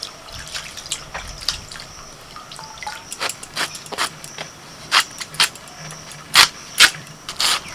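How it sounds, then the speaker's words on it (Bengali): Cabbage being washed under water, irregular splashes and drips with handling knocks, building into louder bursts toward the end, close by. "কাটার আগে বাঁধাকপিটা ভালো করে ধুয়ে নিচ্ছি"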